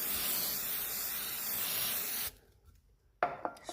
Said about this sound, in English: Spraying that on